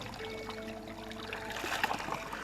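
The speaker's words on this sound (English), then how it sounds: "now it's time to fill my water up from the spring" Water from a spring trickles and pours into a bottle, a steady faint splashing with a rising gurgle as the bottle fills, heard alone at close range.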